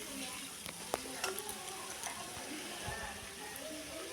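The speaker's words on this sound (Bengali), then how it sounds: "ব্রোকলিটাকে সিদ্ধ করে নিয়েছি, নিয়ে আমি কিন্তু তারপরে ভাজা বসিয়ে দিয়েছি।" Boiled broccoli frying in a pan with salt and turmeric, giving a steady soft sizzle throughout with a few faint clicks of stirring.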